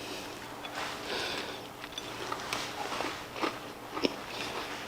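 Someone bites into a slice of blueberry loaf with crunchy streusel topping, soft crunching and chewing sounds repeating close up at an irregular pace, with no talking over them.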